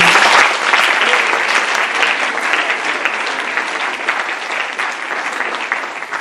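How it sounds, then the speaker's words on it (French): Sustained audience applause at an academy event in Martinique fills the room, a dense, steady wash of many clapping hands that stays loud throughout and tapers only slightly toward the end. "je vous demande d'applaudir Madame Rousseau."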